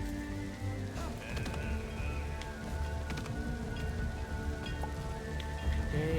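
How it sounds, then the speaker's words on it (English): Steady rain falls and patters on surfaces in the video game Lonesome Guild, a continuous wash of drops with a few sharper splashes throughout, close and moderately loud. "Today it feels like the rains are heavier and our sorrows with it."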